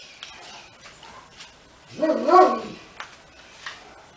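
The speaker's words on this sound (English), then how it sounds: "No barking!" A dog gives one loud bark close by, framed by quieter room sound and short scattered noises before and after.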